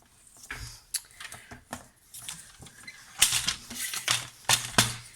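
Designer series paper being cut down into a small strip for stamping, giving a run of sharp snipping and slicing sounds, clustered and more crisp toward the end, close by with no talk.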